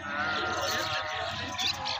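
Goat bleating on a goat farm, a single loud, wavering bleat held for about two seconds, close by.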